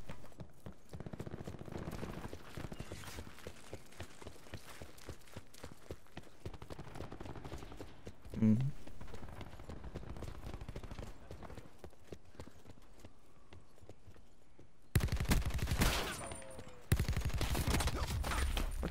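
Rapid gunfire in the video game Call of Duty Black Ops 4, dense bursts of shots running almost continuously, with a louder, heavier burst of firing near the end.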